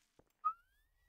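A person whistles to call a dragon: one short rising whistle that then holds a thin, steady tone, preceded by a faint brief sound, all fairly quiet and without speech.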